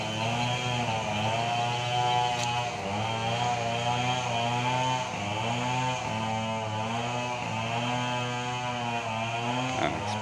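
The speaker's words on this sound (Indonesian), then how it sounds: "terdengar suara gergaji mesin ya, atau senso yang menderu-deru ini ya teman-teman" A chainsaw roars steadily in the village of Kampung Kenteng, its engine whine holding a loud, continuous pitch with brief dips and surges as the throttle shifts, alone without talk.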